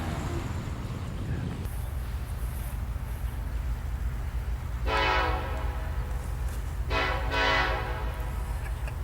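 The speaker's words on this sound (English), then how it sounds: "the next train we saw here was an eastbound NS ethanol train with 2 CSX locomotives trailing" An eastbound Norfolk Southern ethanol freight train with two trailing CSX locomotives rumbles steadily while its horn sounds two loud blasts a couple of seconds apart; no voices are heard.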